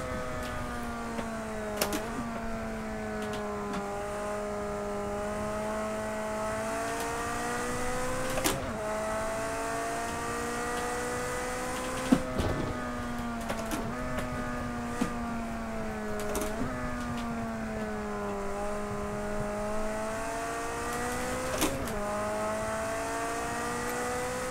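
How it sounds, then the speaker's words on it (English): Ferrari race car with a track-tuned 400 horsepower engine in the video game Project CARS 2, its engine repeatedly revving up through the gears in rising sweeps, with sharp shift breaks, loud and continuous. "it's track tuned, so it squeezes the most out of that 400 horsepower engine"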